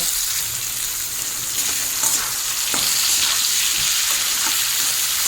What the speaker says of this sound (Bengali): মিনিট আলুটাকেও ভেজে নেব।